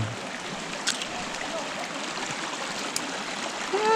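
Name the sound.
stream of cold water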